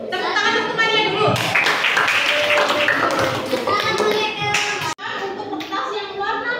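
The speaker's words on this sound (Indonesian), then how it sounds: "Tepuk tangan untuk temannya dulu." A classroom of children claps for a classmate with a burst of quick, uneven hand claps. Children's voices and chatter run through it, and a teacher speaks close by.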